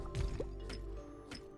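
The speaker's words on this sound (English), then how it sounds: "Now I'm getting that water." Water being collected in the farming game Sun Haven, a few soft wet splashes and drips, quiet and close, with no talking.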